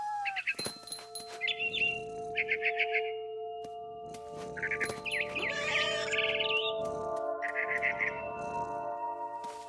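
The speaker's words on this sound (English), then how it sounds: "It was a barn swallow going back to her nest." Barn swallow chirping in the video game What Remains of Edith Finch, with repeated bright twittering bursts over a steady game background hum, fairly close and clear.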